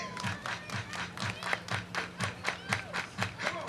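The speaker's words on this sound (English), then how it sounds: "Everybody clap your hands." A baseball crowd at a championship game claps in steady unison, about four claps a second, moderately distant, with faint shouts mixed in.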